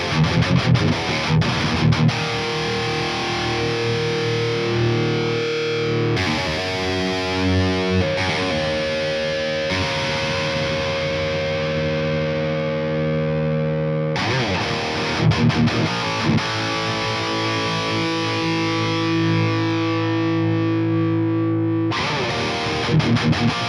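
A heavily distorted electric guitar runs through the Bogren Digital S_Zero 93 Silenoz signature cabinet plugin, churning out dense, loud riffs with palm-muted chugs and held chords and a couple of brief pauses, with no talking.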